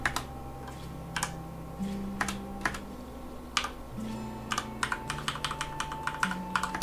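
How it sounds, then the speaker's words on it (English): Loud, clicky keys on a new computer keyboard rattle out in quick irregular bursts, close up and sharp, with brief pauses between flurries of typing over a faint steady hum. "if you notice my clicky clacks are a lot louder, I got a new keyboard"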